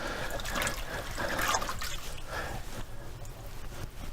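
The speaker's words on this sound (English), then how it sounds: "just rinse this off with plenty of flowing water" Tomatoes being rinsed under a kitchen tap, with a steady stream of flowing water splashing and trickling close by, its intensity swelling and easing slightly as the fruit is moved under it.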